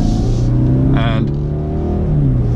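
A limousine's engine rumbles steadily at low pitch as the throttle is opened, a restrained, not overly loud rev that holds throughout, with a faint brief whine partway through.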